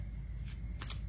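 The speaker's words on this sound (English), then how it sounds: "I'm going to shuffle the tarot now" Tarot cards are shuffled in a couple of quick, soft riffling bursts over a steady low background hum, with no talk.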